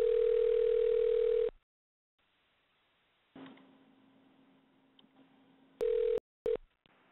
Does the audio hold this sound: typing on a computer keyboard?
no